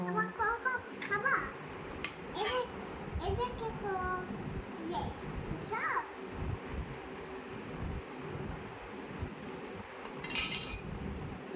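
A young boy plays at cooking chicken, metal utensils clinking and scraping against a pan in scattered bursts while he and an adult chat over a faint fan hum.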